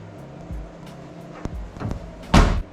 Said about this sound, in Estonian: Proovin üle, et uks avaneks ja sulguks